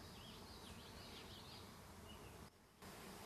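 A honeybee colony about to swarm hums in a steady, dense outdoor buzz. It sounds faint and distant, with a few high bird-like chirps drifting over it.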